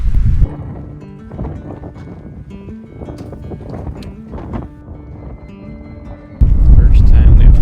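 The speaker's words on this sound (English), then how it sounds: "It's really windy, and it's time to walk the aqueduct" Strong wind buffets the microphone on a trail along the LA Aqueduct at 3 a.m. during a Pacific Crest Trail hike, with loud gusty rumbles at the start and end and a person speaking through it.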